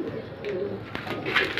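A female pigeon coos softly among a loft of pigeons, low murmuring calls fairly close and quiet, with no talking over them.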